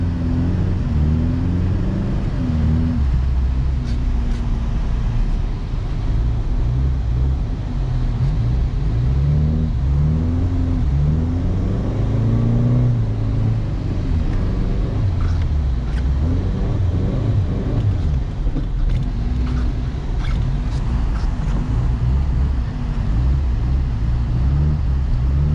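A 1984 Toyota Tercel 4WD drifts in snow, its engine droning loud and steady throughout, the pitch rising and falling as the car revs and slides, with no talk.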